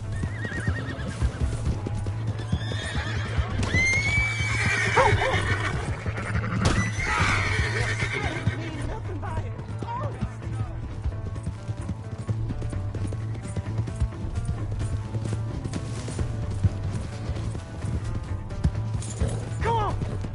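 Horse hooves clip-clop at a gallop with a loud neigh early on, under game music and occasional voices, from the video game Red Dead Redemption.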